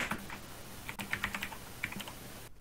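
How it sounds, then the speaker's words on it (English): Quick bursts of keystrokes on a computer keyboard during a Cards Against Humanity game session, irregular clicks alone over a faint room hum. "Jeff's typing his blank card out"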